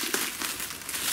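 Plastic bag crinkling as it is pulled off a new A-Case Victory 2 storage and transport case for miniatures, a steady close rustle of handling lasting about a second, with no voices.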